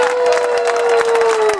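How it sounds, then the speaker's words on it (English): Crowd at a Legion event honouring veterans and the Highway of Heroes breaks into loud, dense applause and cheering, with a sustained tone running underneath. "I want you to give them the biggest round of applause."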